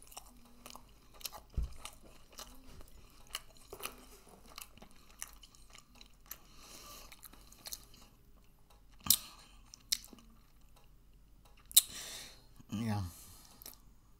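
Someone chews a Shipley's Oreo doughnut close up, soft moist bites and mouth clicks scattered through a quiet stretch, with a few sharper taps and a brief louder rustle near the end.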